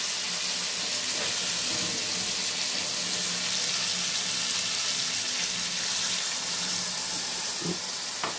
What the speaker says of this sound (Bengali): এবারে আমি কী করবো বলো তো, এটা জল ঢেলে দেবো।